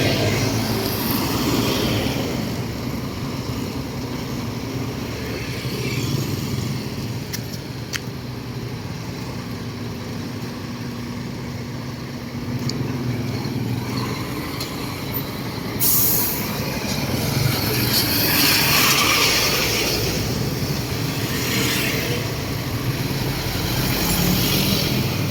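Vehicles at a parking area fill the scene with a steady, loud mix of engine rumble, idling and air-brake hiss, with occasional sharper bursts rising over the continuous traffic noise.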